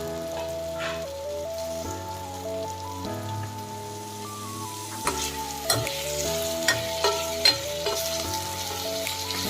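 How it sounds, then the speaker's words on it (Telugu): A large cucumber frying with softened tomatoes in a pan while being stirred: a steady soft sizzle with scattered sharp clicks and scrapes from the spoon, under continuous background music. "దోసకాయ కూడా ఒక 2 నిమిషాలు ఫ్రై చేసుకున్నాము, పచ్చివాసన పోయే వరకు"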